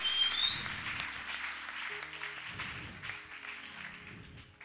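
A church congregation at a Sunday worship service claps and cheers, a dense, fairly close wash of applause and voices that holds steady over a low rhythmic pulse of music.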